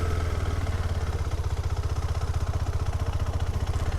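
KTM 390 Adventure motorcycle engine running at low revs during slow U-turns, a close, steady, fast-pulsing thrum with a rhythmic throb and no talking.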